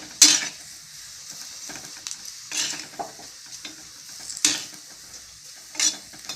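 Tamarind is roasted in an iron pan, with a quiet background hiss broken by several distinct scraping strokes and metallic clinks of a spatula, spaced irregularly.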